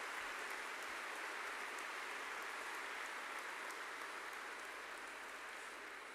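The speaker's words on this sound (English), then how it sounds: "I still ask you another big applause for them." Applause from an audience fills a hall as a dense, even wash of clapping, heard faintly and at a distance, steady from start to finish with no voices.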